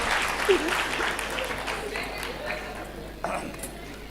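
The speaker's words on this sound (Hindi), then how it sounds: "जबरदस्त, जोरदार तालियां होनी चाहिए।" Audience applause at a magic show in Gorakhpur, a steady wash of clapping that tapers slightly, with a few brief voices and cheers breaking through.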